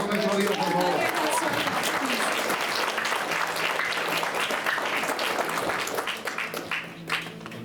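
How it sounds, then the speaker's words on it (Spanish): A church congregation breaks into strong, sustained applause, with a voice heard over the clapping at the start, the sound staying full before thinning slightly toward the end. "Dale un fuerte aplauso a nuestro Dios, por favor."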